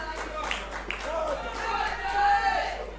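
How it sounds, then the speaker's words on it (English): A wrestling crowd chants a wrestler's name in a rhythmic, moderately loud swell of many voices, with a commentator talking over it. "the crowd chanting Moralez' name"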